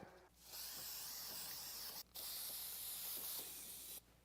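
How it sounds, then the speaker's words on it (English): Multi-purpose adhesive is sprayed onto seat foam over metal and plastic parts during a seat repair. Two long, steady close hisses are split by a short pause, and no one speaks. "I'm gonna use some multi-purpose adhesive to glue the foam back onto the metal and the plastic."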